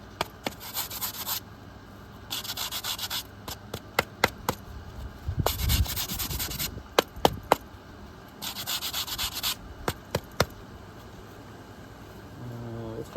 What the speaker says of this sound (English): That has to be sanded.